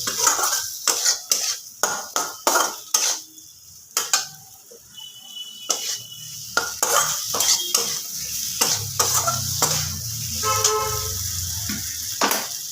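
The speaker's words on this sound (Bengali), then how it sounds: "এবার আলুগুলো খুব ভালোভাবে মশলার সাথে মিশিয়ে নেব" A utensil scrapes and knocks repeatedly against a pan as fried potatoes are mixed into spice masala for a fish kalia, sharp rhythmic clatters over a low sizzle, close and without speech.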